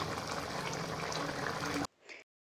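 A pot of potato and lentil-dumpling curry bubbles at a steady boil, a dense continuous gurgle that cuts off abruptly near the end.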